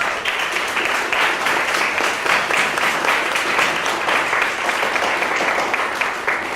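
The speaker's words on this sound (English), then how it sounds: "let's give them a clap for" A conference audience gives sustained, dense applause for the technical staff, an even wash of many hands clapping close by with steady loudness throughout.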